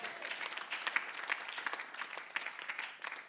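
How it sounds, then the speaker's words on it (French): A church congregation claps during a Sunday service, steady dense applause from many hands in a room, with no clear speech over it. "Acclame Jésus-Christ pour ça."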